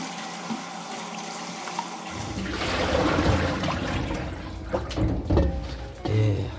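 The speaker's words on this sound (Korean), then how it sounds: "한 번만 더 씻어 주겠습니다." Lettuce being washed in lukewarm water at a kitchen sink: after two quiet seconds, steady running and splashing water starts, with a few sharper splashes and clinks near the end.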